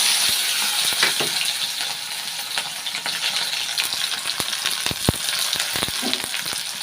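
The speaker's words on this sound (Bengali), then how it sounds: "পেঁয়াজ কড়াই ভেজে নেবো" Chopped onions fry in hot oil in a wok (kadai), a steady broadband sizzle with scattered sharp clicks of stirring and spatula taps, close and continuous throughout, no voices.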